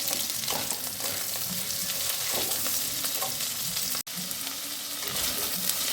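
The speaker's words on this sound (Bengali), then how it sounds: "আলু পেঁপেটা একটু ভাজা ভাজা হচ্ছে" Potato and papaya pieces fry in a pan after a tempering of dried red chillies, giving a steady, close sizzle with occasional stirring scrapes and one brief break near the end.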